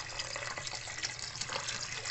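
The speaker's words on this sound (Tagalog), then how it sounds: "Ito guys, lalagyan natin siya ng tubig guys." Water pours steadily from a tap into a cooking pot holding milkfish for a sour stew, a continuous close splashing fill with no break and no talking.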